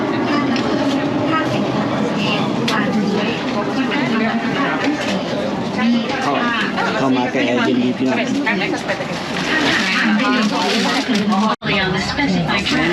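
A train rumbles and rattles continuously as it gets moving, with a person talking over the steady noise of the carriage.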